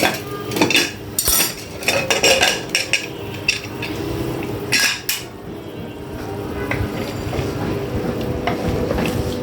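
A pressure cooker of mutton is opened and potatoes go in. Sharp metallic clanks and knocks of lid and utensils come first, close and loud, then settle into a steady bubbling sizzle from the pot.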